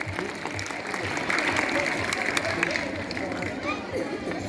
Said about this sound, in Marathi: सर्व विद्यार्थ्यांनी बक्षीसपात्र विद्यार्थ्यांसाठी टाळ्या वाजवाव्यात